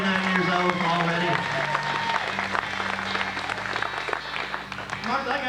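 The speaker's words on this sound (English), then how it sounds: "Give Lonnie a big round of applause." Guests at a 39th birthday party applaud steadily for several seconds, with music and talking mixed in and running continuously under the clapping.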